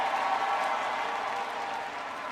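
Audience at a university commencement ceremony in an indoor arena clapping, a dense, sustained wash of applause filling the hall without pause and easing slightly toward the end.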